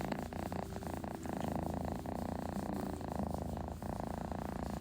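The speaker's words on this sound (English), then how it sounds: "I apologize if you can hear my cats purring." Continuous low rumbling purr from two cats, close and steady, pulsing rhythmically for the whole stretch without any talking.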